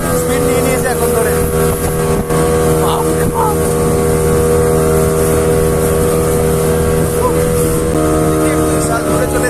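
A speedboat runs at high speed on the sea off Digha, its engine a loud, steady drone throughout with wind and water noise and voices talking over it.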